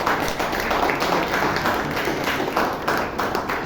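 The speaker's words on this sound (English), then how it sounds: "Let's hear a round of applause for beautiful tactics." Audience clapping together at a Toastmasters club meeting in Bangalore, a steady, moderately loud round of applause lasting a few seconds without any speech.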